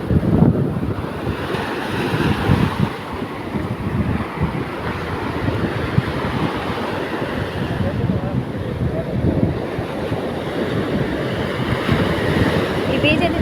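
Ocean surf rolls onto a clean beach in steady, continuous washes, close and fairly loud, with wind buffeting the microphone throughout.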